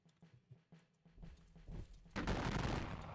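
Musket volleys from the video game Battle of Gettysburg, a few scattered distant pops that build into a dense crackling fusillade, fairly faint and rumbling.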